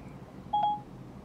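A car's voice assistant in an all-electric vehicle places a LINE phone call, giving a single short, clear electronic dialing beep over quiet cabin noise.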